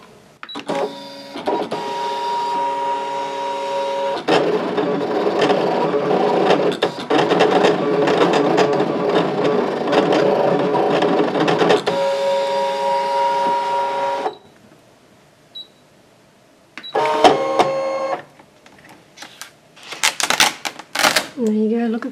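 A Brother Scan n Cut machine cuts paper with a steady mechanical whirring and tapping that runs for about ten seconds, then stops, followed by shorter bursts of motor and handling noise.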